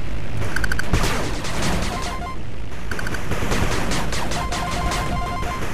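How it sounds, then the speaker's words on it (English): A machine gun turret in 8-Bit Armies blasting nonstop, dense overlapping bursts and explosions filling the battle, with small electronic beeps pinging above the din and no voices. "Machine gun turret under attack."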